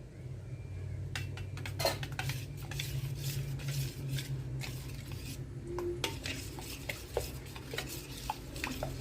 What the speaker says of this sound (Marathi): आता हे सर्व साहित्य आहे ते पुन्हा एकदा मिक्स करून घेऊया